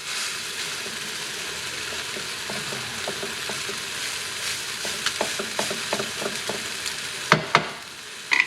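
Day-old rice frying in a pan for fried rice makes a continuous sizzling hiss, joined halfway through by scraping stirs and a few utensil knocks near the end, with no voices.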